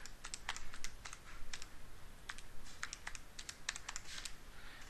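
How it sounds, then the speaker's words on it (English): Numbers tapped out on a computer keyboard during a math lesson: quick, irregular bursts of light key clicks with short pauses, fairly quiet and close, no talking. "You then type that in to make sure"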